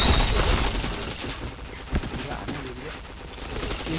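Gunfire in a shooter video game, rapid repeated shots with one sharp louder blast near the middle, running steadily under voices talking throughout.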